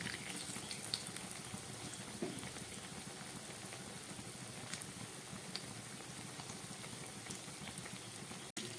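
Raw banana koftas deep-frying in plenty of oil in a kadai over medium heat, a steady close bubbling sizzle with faint crackles running throughout, ending in a brief sharp knock.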